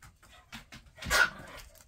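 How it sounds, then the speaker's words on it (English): Dogs indoors give a few soft, brief vocal sounds, huffs and a short whimpering yelp, fairly faint and close in an otherwise quiet room. "I don't need all 4 dogs out here."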